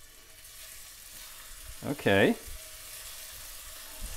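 Meat sizzles in hot oil in a Mauviel copper sauté pan, a soft steady frying hiss throughout, briefly interrupted by a short spoken word partway through.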